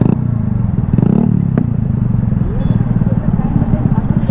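Hero Splendor motorcycle exhaust putters with a steady low, rapid thumping idle, loud and close, with a brief clattering bump partway through.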